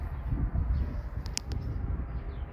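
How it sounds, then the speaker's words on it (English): Birds call outdoors on a clear, breezy day: a couple of brief high chirps stand out over a low rumble of wind and background noise, faint and somewhat distant. "Birds are chirping."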